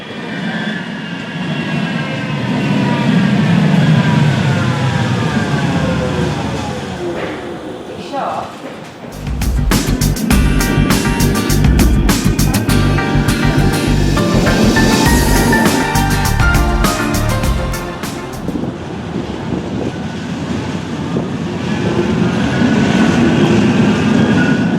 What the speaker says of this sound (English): tram should be arriving now to take us there